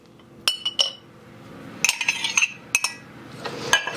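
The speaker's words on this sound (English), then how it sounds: "And then I'm going to add 1/4 cup of melted butter, and I'm just going to mix that all together." A spoon clinks and scrapes against a bowl while melted butter is mixed into a dry crisp topping, several sharp metallic taps in irregular bursts between softer stirring, close and alone.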